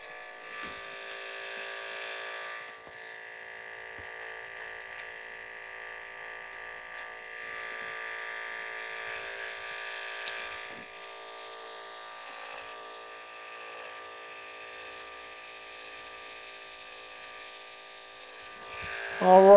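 Electric hair clippers cutting hair for a high skin fade, a steady close-up buzzing hum that runs almost unbroken, with a brief louder rattle at the very end and no talk.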